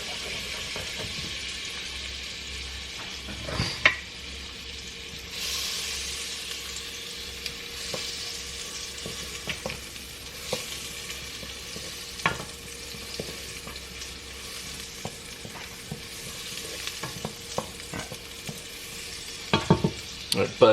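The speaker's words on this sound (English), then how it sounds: "we're gonna melt the butter right out of the gates. That melt down a little bit in the stew pot." Butter melts in a stew pot with a soft, steady sizzle, quiet and continuous, broken now and then by faint clinks and stirring knocks.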